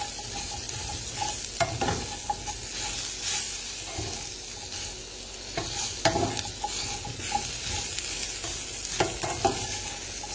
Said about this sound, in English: So yeah, I'll just stir it up a bit and then do the same thing.